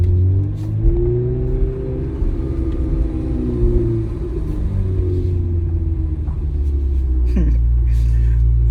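A Chevrolet Corvette C8 Z06 engine with aftermarket headers rumbles and revs high to about 5,000 RPM in second gear, pitch rising and falling through several pulls, with a voice talking over the steady engine noise.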